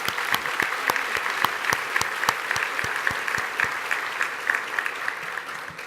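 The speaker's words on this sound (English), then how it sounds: "So another round of applause for Stuart Countess and Miss Corinne Hodges" A banquet audience gives a round of applause, a full, continuous patter of many hands with several sharp individual claps close by, steady and loud across the whole stretch without talk.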